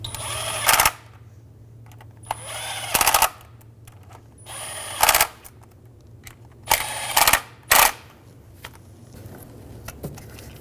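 Power tool snugging down valve cover bolts on a 2007-2011 Toyota Camry 2.4L four-cylinder, in about six short buzzing bursts separated by pauses, close and loud over a steady low hum.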